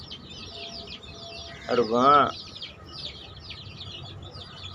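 Chickens cluck and chirp in a constant background chatter while someone speaks briefly over them.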